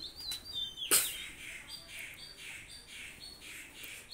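Pakistani pigeons give high, thin squawks and chirps, with one sharp, louder cry followed by a run of softer, evenly spaced calls at close range.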